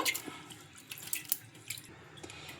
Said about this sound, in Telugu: ఈ అటుకుల్ని ఒక 2 సార్లు శుభ్రంగా వాష్ చేసుకోవాలి.